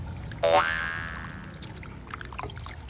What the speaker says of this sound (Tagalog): maghugasan na natin siya ng tubig.